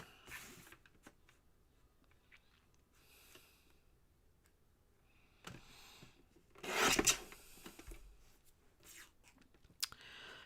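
Card paper being trimmed for crafting makes scattered rasping and rubbing cuts against a quiet background, with a louder burst of cutting near the middle.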